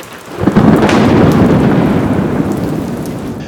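A loud crack of thunder rolls into a long, rumbling boom over steady heavy rain, swelling quickly and then slowly fading, close and with no voices.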